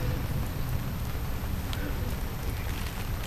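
Rain falls steadily on an outdoor 2009 Vietnam Veterans Day ceremony, a constant broad wash of hiss and patter with no breaks.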